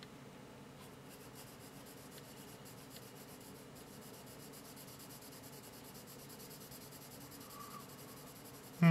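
A B pencil shading on paper: soft, continuous scratchy rubbing strokes, close and quiet, steady for several seconds with a brief knock at the end.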